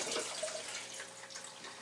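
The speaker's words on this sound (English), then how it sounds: "So I'm going to rinse my hands real quick" Hands are rinsed under a running tap: a brief, soft, steady splashing flow of water.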